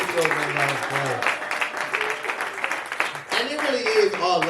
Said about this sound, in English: Give Rose another round of applause